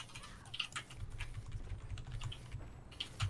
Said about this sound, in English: My keyboard isn't coming through on my mic, is it?